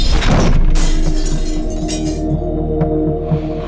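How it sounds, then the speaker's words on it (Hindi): Glass shatters loudly and close by, a sharp burst of breaking pieces followed by scattered tinkling fragments over a low steady hum, with no voices. "उससे पहले कुछ कांच के टूटने की आवाज आई थी वहां से"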